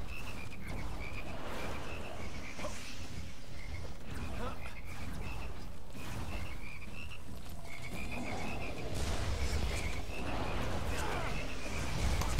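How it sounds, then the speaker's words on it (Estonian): Frogs croak repeatedly in the video game Immortal Redneck, a steady chorus of rhythmic calls over continuous low background game noise, with no other sounds standing out. "Konnad!"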